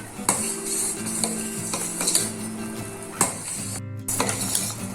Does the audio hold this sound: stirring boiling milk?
yes